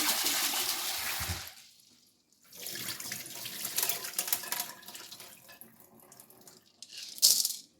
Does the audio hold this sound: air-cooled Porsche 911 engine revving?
no